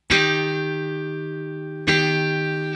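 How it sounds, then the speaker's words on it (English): A guitar strummed twice with only two strings ringing and the rest muted, each strum a bright attack that sustains and slowly fades, the second following about two seconds after the first. "we only want those two strings to ring out when we strum it. So we're going to mute the rest of the strings"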